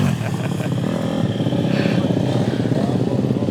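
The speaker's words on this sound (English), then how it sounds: "There's a couple of enduro bikes passing me now." Several enduro motorcycles ride past on a trail in a military training area, their engines droning loud and close with a rough, steady roar that swells and holds throughout.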